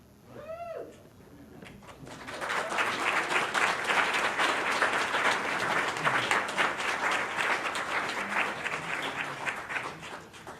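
A room of people at a weekly club meeting applauding award recipients: dense, steady clapping that rises after a short quieter start and holds at a full level, with a brief high bird-like chirp at the opening.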